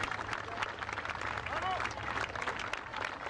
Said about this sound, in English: Gets a nice round of applause.